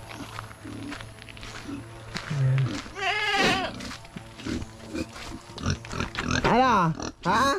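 Goats bleating nearby, several wavering cries rising over a steady outdoor background with rustling and faint movement.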